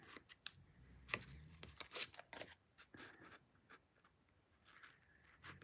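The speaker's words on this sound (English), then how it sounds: "Fussy cutting." Scissors snip closely and carefully around paper in card-making fussy cutting, giving quiet irregular clicks and crisp cuts with short pauses between, no talking.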